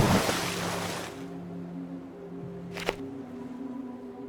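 Broadband wash of sea water and surf as a character wades into the ocean in a military stealth video game, loudest at the start and then settling into a low steady ambience with a brief splash near the end.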